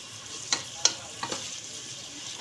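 Three onions fry with a kilo of beef in a pot for beef pasanda, a soft background sizzle broken by a few sharp clinks and scrapes of stirring.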